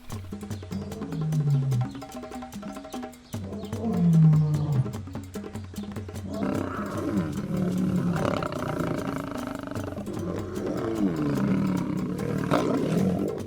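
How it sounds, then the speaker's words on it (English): A lion roars in the wild, deep rumbling roars repeating loudly in a series, with heavy low grunts carrying over a faint natural background. "The lion is an experienced predator."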